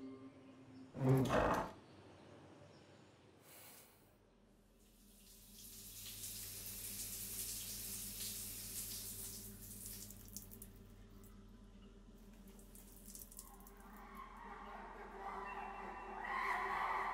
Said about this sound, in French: Je vais me prendre une douche.